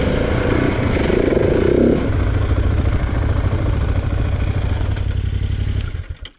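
Motorcycle engine of a Husqvarna 701 single or Yamaha Tenere 700 twin running close by, a steady loud rumbling idle with a brief revving swell early on, fading out at the end.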